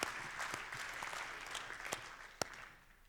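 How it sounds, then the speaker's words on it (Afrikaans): Clapping from a church audience giving the ladies a hand, moderately quiet and fading over a few seconds, with a few distinct individual claps near the end. "Kom ons gee die dames 'n hande klap"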